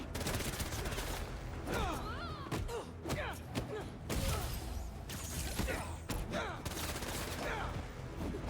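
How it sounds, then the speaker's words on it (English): Gunfire in the video game Marvel's Spider-Man 2, bursts of rapid shots and impacts mixed with mechanical clanks and creaks, dense and loud throughout. "Opening fire!"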